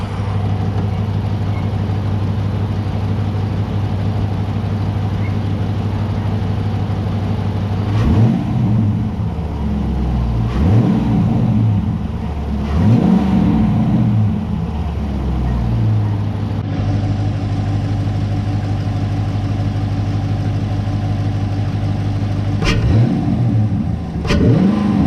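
A 2017 Dodge Challenger R/T with a K&N cold air intake idles steadily, then revs up several times in quick bursts to about 3,000–4,000 RPM with a rising whoosh of intake, settling back to idle between each rev.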